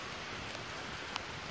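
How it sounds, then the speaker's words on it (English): Rain falls outdoors with a soft, even hiss and a few faint droplet taps, quiet and continuous with no voices. "You know, it's raining."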